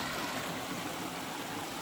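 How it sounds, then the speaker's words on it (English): A small creek waterfall in Augusta County, Virginia, gives off a steady, soft rush of flowing water, even and unbroken throughout, with no voices. "just ventured on this little creek waterfall"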